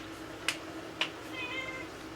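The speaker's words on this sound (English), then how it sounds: "If you're hearing weird noises in the background, that's my cat." A cat meows faintly behind a steady background hum of Mass Effect 1 game audio, two short chirps followed by a longer drawn-out meow, distant and quiet.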